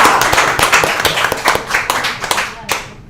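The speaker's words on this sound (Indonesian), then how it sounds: "tepuk tangan dulu buat semua" Audience at the Palembang city land office clapping, a brisk cluster of sharp hand claps in an uneven rhythm that thins out toward the end, with voices talking underneath.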